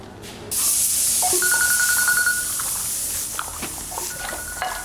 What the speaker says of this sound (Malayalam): എന്റെ ഫോൺ അടിക്കുന്നു